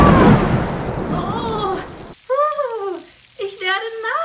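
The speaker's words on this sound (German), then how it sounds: "Ich werde nass. Es regnet." A steady wash of rain noise, loud at first, fades out over about two seconds. Cartoon-like voices and tones follow it in a children's German lesson about spring.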